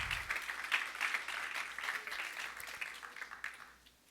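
A congregation claps at a church sermon, steady dense applause carrying on at moderate level and fading toward the end.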